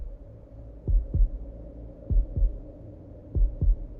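Slow, muffled heartbeat thumps in paired lub-dub beats, three pairs at a steady pace over a low hum, close and clear with no talking.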